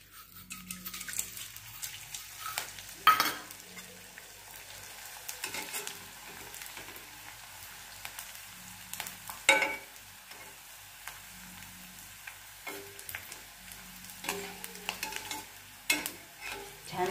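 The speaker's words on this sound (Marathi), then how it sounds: "हा थोडा थोडा थोडा थोडा असा डिंक चांगला पांढरा शुभ्र तळून घ्यायचा" Edible gum (dink) fries in hot oil, a soft steady sizzle broken by scraping and stirring clatters from a utensil in the pan, no talk.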